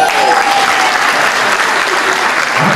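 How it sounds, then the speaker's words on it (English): Dense, loud audience applause at a 2022 awards party as the Actress of the Year winner is honoured, a continuous wash of clapping throughout. "Round of applause for Aida Mendy."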